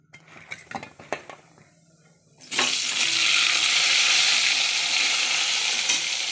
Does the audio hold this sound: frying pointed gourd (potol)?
yes